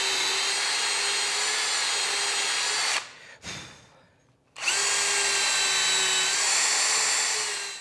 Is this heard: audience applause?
no